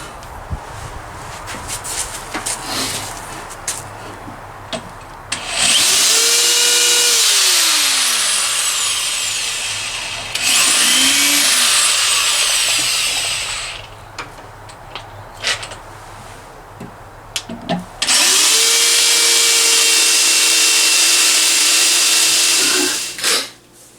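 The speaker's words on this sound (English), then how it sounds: "So let's get these holes drilled." A power drill bores 3/4 inch holes into a wooden stick for a peg weaving loom, with three long, loud, whining bursts of drilling whose pitch sags under load, separated by quieter pauses.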